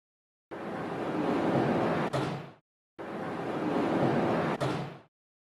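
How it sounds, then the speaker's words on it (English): A door in a Haas CNC lathe lab simulation slides shut by its handles, a steady rushing sweep ending in a sharp latch click, heard twice in a row, close and loud with no talk. "Close the door by clicking on the handles of the door."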